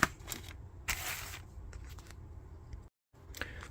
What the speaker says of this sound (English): let me open up the bag because it seems like not that many parts